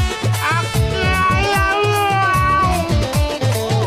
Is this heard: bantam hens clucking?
no